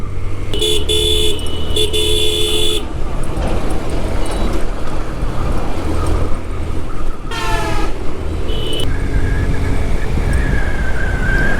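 Traffic roars continuously around a motorbike ride on a busy road, with several loud horn blasts, some long and some short, cutting through the engine and road noise.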